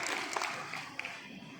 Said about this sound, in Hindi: मैं आप सभी का एक बार हार्दिक अभिनंदन तालियों के साथ करना चाहता हूँ